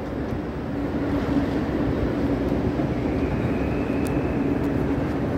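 Steady loud rumble of trains at Berlin's main railway station, a continuous broad roar with a faint high whine rising late, no voices over it.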